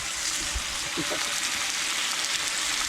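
Bacon fries at an outdoor tipi camp in the Mendip Hills, giving off a constant crackling sizzle with a brief murmur of voices partway through.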